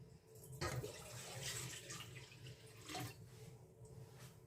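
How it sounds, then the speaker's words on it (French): Water is poured into a bowl as the liquid base for bread dough, a soft, continuous splashing pour heard close and fairly quiet, swelling and easing over a few seconds. "Donc ici, nous allons verser notre eau."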